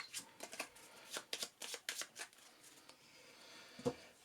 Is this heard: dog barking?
no